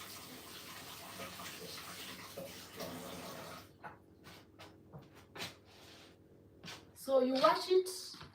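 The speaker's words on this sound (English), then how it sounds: "So you wash it under running cold water after breaking the peppery cover." Cold tap water runs and splashes as physalis fruit is washed under it, a steady rushing stream that stops partway, followed by brief handling noises while a person talks.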